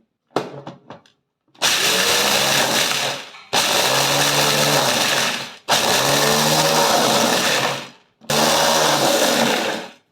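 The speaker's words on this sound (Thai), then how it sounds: "เครื่องปั่นตัวนี้ดูนะคะ ว่าจะปั่นได้หรือเปล่านะคะแล้วก็เอาเมล็ดกาแฟใส่" A blender grinding roasted coffee beans in four long loud bursts of whirring, rattling motor noise separated by brief pauses, preceded by a few short taps and clicks, close up and with no talking.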